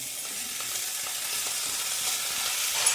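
Vegetables hitting a hot pan and frying, a steady crackling sizzle with faint stirring scrapes, moderately quiet and close, no talking.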